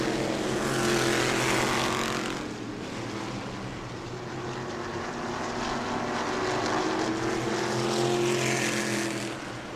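Stock race cars at New Smyrna Speedway, a loud roaring engine pack that swells, dips, then rises again as cars pass, filling the air without any talk.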